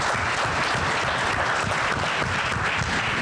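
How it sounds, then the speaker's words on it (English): An audience at a women-in-leadership stage event breaks into dense, sustained applause. The loud, steady clapping fills the whole moment without any speech. "If you think That deserves a hand clap."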